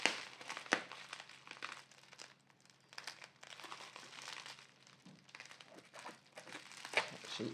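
Soft crinkling and tearing of packaging with tape being pulled, quiet and close, in irregular bursts over a faint low hum.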